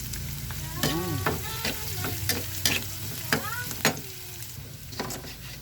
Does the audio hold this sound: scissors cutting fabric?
no